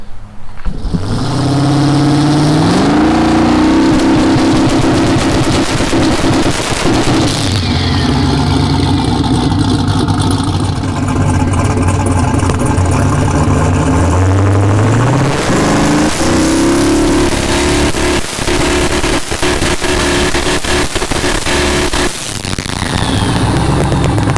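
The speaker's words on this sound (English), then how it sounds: "Do that next transbrake test with some higher RPM, see if I can get some more boost." Drag car engine on the transbrake during a test, loud and close, revving up through several rising pulls with a rough, heavy idle between them and a final surge at the end.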